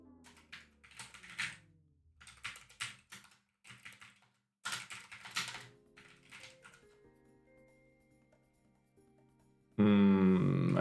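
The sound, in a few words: typing code on a computer keyboard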